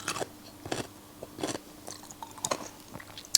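Crunchy, hard, sweet food chewed up close: a few crisp bites and crunches in uneven bursts, quiet and with no talking.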